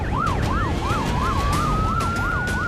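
An ambulance siren wails in a rapid repeating up-and-down yelp, loud and close over steady road noise, with a second rising tone sweeping in behind it.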